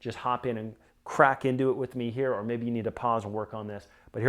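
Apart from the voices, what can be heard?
None of the usual background noises is heard.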